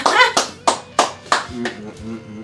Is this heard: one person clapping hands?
yes